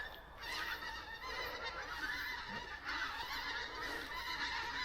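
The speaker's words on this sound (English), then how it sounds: "Bunch of geese flying overhead, you could probably hear those." Several geese flying overhead honk repeatedly at a distance, their calls overlapping in an irregular chorus against a quiet riverside background.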